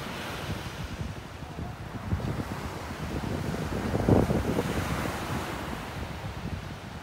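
Ocean waves rolling in and breaking on a beach in North Naples, Florida, a steady wash of surf mixed with wind buffeting the microphone, swelling slightly midway.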